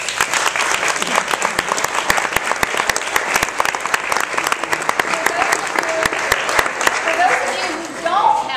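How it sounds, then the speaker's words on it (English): A crowd at a volunteer honors event gives sustained, lively applause, a dense even patter of many hands that carries on steadily, with a few voices mixed in. "let's give them a round of applause."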